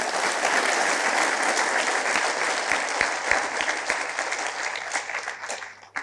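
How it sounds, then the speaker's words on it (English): An audience at a graduation ceremony applauds the graduates, steady dense clapping that carries on for several seconds before tapering off at the end. "May I ask you all to put your hands together to applaud the success of the graduates."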